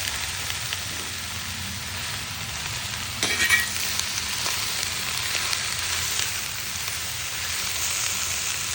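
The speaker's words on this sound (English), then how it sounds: "any good anything starts off with browning your sausage." Sausage browns in a large pot for a five-gallon pastalaya, giving a steady, dense sizzle and crackle throughout with a few louder stirring scrapes near the middle. No one speaks.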